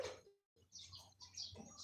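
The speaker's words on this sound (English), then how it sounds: "you guys also say hello to the birds in my background" Birds chirping in the background of a rural Filipino yard, faint short tweets scattered over a quiet outdoor hush.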